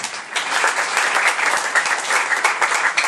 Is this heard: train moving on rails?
no